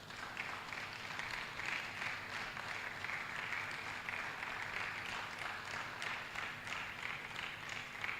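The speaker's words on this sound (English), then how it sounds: "That applaud is for you to please come forward." An audience at a university book presentation ceremony applauds for about eight seconds, a steady, even wash of clapping heard from some distance and fairly soft.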